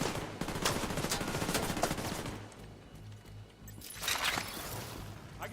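Automatic turret gunfire in an online shooter video game, a steady rapid rattle of shots that thins out midway and then bursts back loudly near the end.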